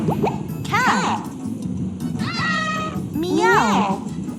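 A cat lets out three separate meows with rising and falling pitch, each under a second, spaced about a second apart and heard close against a quiet background.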